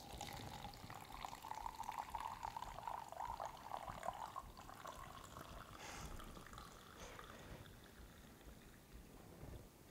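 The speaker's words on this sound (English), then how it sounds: "I'm gonna take this container, and I'm gonna go ahead and pour it into another one" Liquid from a chemistry demonstration is poured from one container into another: a faint, steady trickle that swells through the middle seconds, then fades into quiet room noise.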